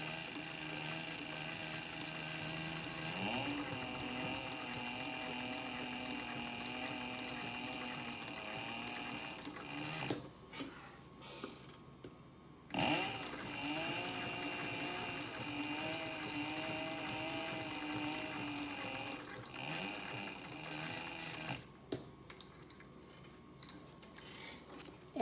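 Sewing machine stitching a planner cover with a size 22 needle and heavy thread at a long stitch length, a steady mechanical whir with rhythmic ticking that pauses briefly twice before running on.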